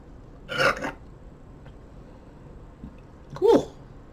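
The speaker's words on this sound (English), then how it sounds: "Even sour on the burp." After a sip of sour beer, Feelin' The Flow by Sun Lab, a person lets out two short burps a few seconds apart, each a brief throaty burst over a quiet room.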